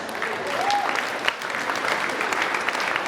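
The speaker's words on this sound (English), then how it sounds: "So let's give them a hand of applause." Audience applause at a Samoan cultural event honouring a family before a fan dance, steady dense clapping throughout with a faint whistle early on.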